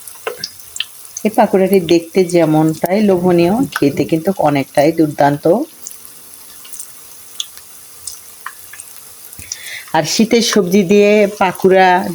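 Shaped cabbage pakoras go into hot oil, and a soft sizzle runs beneath a voice that talks over most of the stretch before dropping away briefly.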